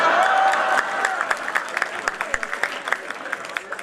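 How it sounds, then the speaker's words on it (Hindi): Audience applause at a Hindi poetry gathering, a loud burst of clapping that thins into scattered individual claps, with a voice speaking over it. "तालियां भी बजाते रहना चाहिए।"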